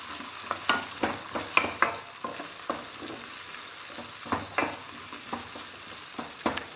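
Pre-diced, washed potatoes fry in a hot pan with a steady broadband sizzle, broken by repeated sharp scraping clicks of stirring at an irregular pace; no voices.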